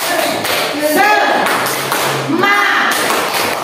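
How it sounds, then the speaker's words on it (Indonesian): A school class doing the rhythmic 'tepuk semangat' clapping chant: loud, close, regular bursts of hand claps mixed with children's chanting voices throughout. "Tepuk semangat."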